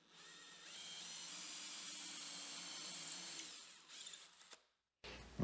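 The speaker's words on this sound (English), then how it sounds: "So let me drill just a little bit further here." A hole saw on a power drill boring through the panel of a dual fight stick with trackball to mount an Atari spinner, a steady close whine running about four seconds before slowing, stopping, then a brief clunk.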